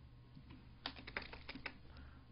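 Brief quick typing on a computer keyboard, a short burst of soft, close key clicks in an uneven rhythm over a quiet background hum.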